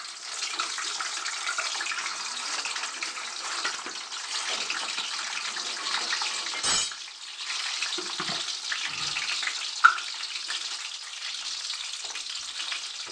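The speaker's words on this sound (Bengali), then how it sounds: "এর মধ্যে আমি ডিমগুলো ভেজে তুলে নেব" Eggs frying in hot oil for a chicken biriyani, with a touch of turmeric added, giving a continuous bright sizzle and crackle with a brief pop, close and steady throughout.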